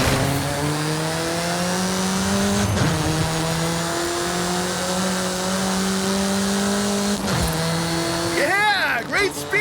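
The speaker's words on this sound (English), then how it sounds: "Get some speed, then turn into the countryside." A Dodge Charger R/T driven fast in Forza Horizon 5, its engine holding a loud steady drone that shifts pitch twice with gear changes, then a sharp revving burst near the end.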